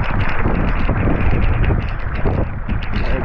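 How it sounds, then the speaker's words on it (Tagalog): Strong wind buffets a boat at sea during the northeast monsoon season, a continuous loud roar of gusts and microphone rumble filling the whole stretch without a break. "Ito po, nadadala kami ng hangin na malakas."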